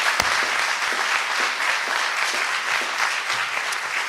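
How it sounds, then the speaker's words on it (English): Steady, dense audience applause at a fundraising gala, a full room of hands clapping evenly throughout with no voices over it. "They deserve a round of applause."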